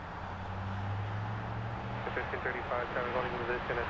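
An airliner from Mexico City's Santa Lucia airport approaches LAX, its steady engine roar and rumble droning at moderate distance while voices talk over it.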